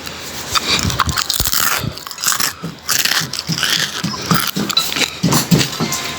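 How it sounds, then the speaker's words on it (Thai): Crispy Thai pork belly being bitten and chewed up close, with repeated sharp crunches and smacking bites spread over several seconds and no talking. "ฟังเสียงหมูกรอบ กรอบจริง ๆ ค่ะ"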